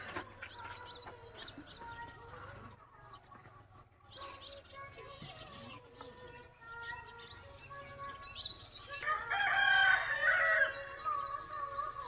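Roosters crowing at sunrise on a farm, with repeated crows at moderate distance over steady chirping birds. The crowing builds louder toward the end, and a faint background murmur is present.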